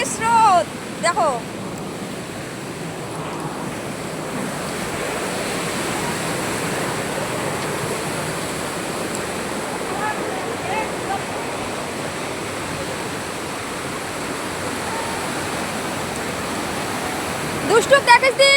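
A mountain water stream at Jayanti hill rushes in a steady, loud, broadband wash, with brief voices and handling noise at the start and end.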